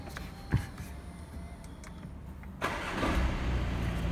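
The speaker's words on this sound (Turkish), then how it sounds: "Şimdi aracımızı tekrardan bir çalıştıralım." A car being started again: after a brief click, the engine catches a bit more than halfway through and settles into a steady, close running hum.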